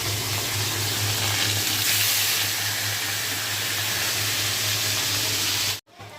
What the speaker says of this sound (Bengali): দুটো দুটো করে ভাজছি